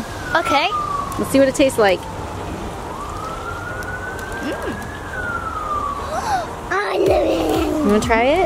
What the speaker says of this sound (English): if you hear that ambulance in the background